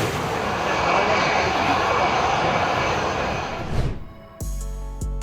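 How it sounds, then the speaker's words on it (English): An F-16 fighter jet roars loudly at close range in a broad, sustained blast that swells and then cuts off abruptly near the end, followed by a brief different sound. "Nobody wants to miss the chance to witness an F-16 close up."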